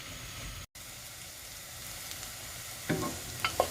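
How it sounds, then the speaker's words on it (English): Mushrooms fry in melted butter in a pan, giving a soft, continuous close sizzle with a brief dropout near the start and a few louder crackles and stirring clatters toward the end. "stir them around to coat them all in the melted butter and then continue to fry until they're all nicely browned"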